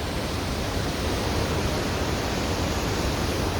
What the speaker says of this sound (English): So that's Cane Creek Falls